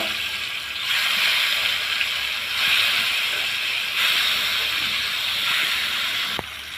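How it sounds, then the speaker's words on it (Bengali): Pieces of rohu fish frying in hot soybean oil in a wok, giving a steady, bright sizzling hiss that swells in waves and stops abruptly near the end, with no voices. "এখন আমি মাছগুলা লাল লাল করে একটু দিয়ে নেব"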